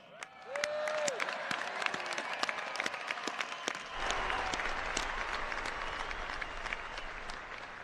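Large stadium crowd at an Air Force Academy graduation applauds the class of 2021, dense sustained clapping that swells and continues steadily throughout, broad and reverberant from a distance, with a brief tone and stray sounds early on.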